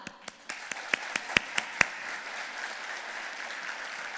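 At the 2015 Peoria Education Foundation Visionary Dinner, a crowd applauds, beginning with a few sharp, separate claps that swell into steady, moderate applause.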